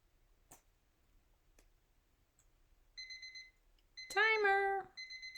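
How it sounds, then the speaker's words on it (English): A kitchen timer alarm sounds in short, bright electronic beeps, a burst in the middle and another at the end, with a brief voice-like sound between them, otherwise quiet. "Timer."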